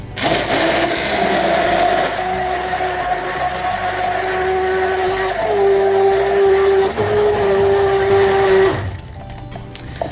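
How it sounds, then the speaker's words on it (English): A blender mixing creamy French salad dressing whirs loudly and steadily for several seconds, its motor pitch shifting slightly before it cuts off abruptly. "we're just gonna hit it with a blender real fast"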